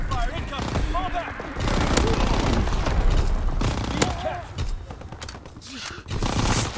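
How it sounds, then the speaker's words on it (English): Explosions and dense gunfire on a Call of Duty WWII battlefield, dense rumbling booms and crackling shots, with a voice talking over the noise throughout. "Enemy mortar fire incoming."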